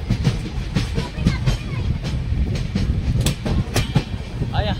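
The Neelanchal Express running on the rails, heard from inside as a loud, steady clickety-clack and rumble of wheels on track, with someone talking under the noise.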